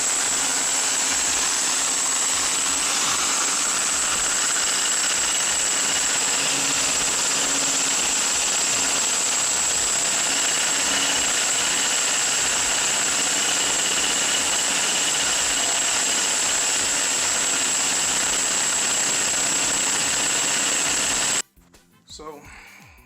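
A power drill whines steadily at close range for a long stretch, its bit drilling through a wine glass, a constant high-pitched grinding that cuts off abruptly near the end.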